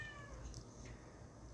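A talkative cat named Lita lets out a short, faint meow in the background of a podcast recording, a single brief cry with no talk over it.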